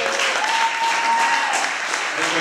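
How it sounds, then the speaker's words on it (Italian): An audience at a small live music and storytelling event applauds, a dense, even wash of clapping from many hands throughout, fairly loud and close, with a faint whistle-like tone briefly running over it. "un applauso."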